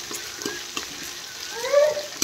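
Garlic-ginger paste sautés in a pan for kadhi, a soft steady sizzle with light stirring scrapes close by, no one talking.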